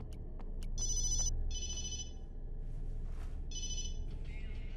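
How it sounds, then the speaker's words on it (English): A cell phone ringing with repeated short bursts of high electronic trilling in an even pattern over a low, steady background rumble, moderately close and without speech. "I should have turned off my cell phone."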